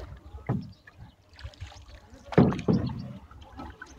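A wooden rowboat being paddled through river water in a village, with soft splashes and gurgles from oar strokes, two stronger splashing strokes toward the end, and faint voices in the background.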